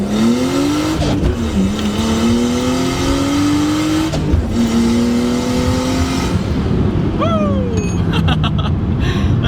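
A 1989 Nissan Skyline R32 GTS-T builds boost and accelerates hard through several rising gear pulls, each climbing engine tone broken by a shift, loud and close from inside or near the car.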